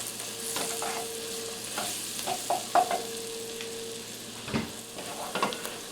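Flour and onions fry in a pot for pot roast gravy while a spoon stirs them. A soft steady sizzle runs under intermittent close scraping strokes, with a faint tonal hum in the background and no speech.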